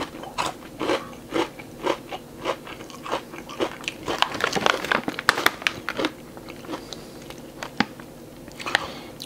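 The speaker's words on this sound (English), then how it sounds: "See if I can get a big one and I'll bite it in half to see what's inside." Biting into a chocolate peanut butter cluster, a close, loud crunch followed by repeated crisp chewing crackles with an uneven rhythm, and no talking.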